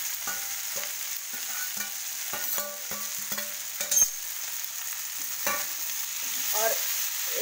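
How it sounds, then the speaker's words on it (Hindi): Green onions are added to frying potatoes for a green onion sabzi, with a soft steady sizzle and repeated clinking, scraping stirs of a spatula against the pan. "अब इसमें हम डाल देते हैं प्याज।"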